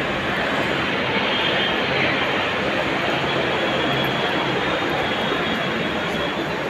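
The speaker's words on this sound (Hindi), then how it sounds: "सामने अपनी ट्रेन लगी हुई है कैपिटल एक्सप्रेस प्लेटफॉर्म नंबर 1 पे" Capital Express train standing at platform number 1 of Rajendra Nagar Terminal, giving a loud, steady broadband rumble and hum that fills the station with no breaks and no talk over it.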